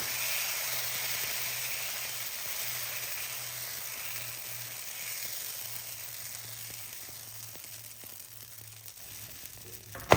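Chechebsa flatbread cooks in a hot pan with a steady, close sizzle and hiss that holds for the whole stretch, ending in a brief sharp knock as it is turned. No one speaks.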